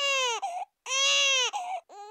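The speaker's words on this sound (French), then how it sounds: "Il fait trop de bruit, ce bébé." A cartoon baby from Petit Ours Brun cries in loud, close wails, two long sobbing bursts each trailing into shorter whimpers, alone without other sound.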